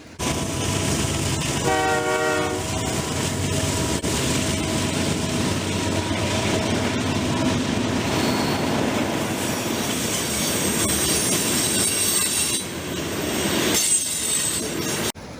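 An O gauge K-Line FM Trainmaster model train, converted to battery power, rumbling steadily along the track with wheel squeal and a brief horn blast, continuous and close.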